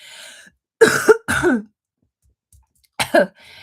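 Two close, sharp coughs in quick succession, then a pause and one more double cough, with faint breathing around them.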